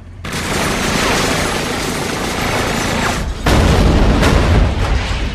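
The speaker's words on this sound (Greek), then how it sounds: "Πράσινη έκρηξη!" A green explosion bursts loudly and close, a dense roaring boom with crackling debris that carries on for several seconds and swells again near the end, with no voices over it.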